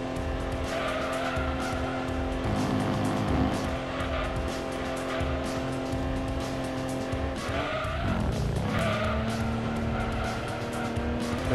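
A race car in Gran Turismo 2 holds a steady engine drone, then brakes with a tire squeal and dip in pitch around a corner before the engine climbs again under acceleration.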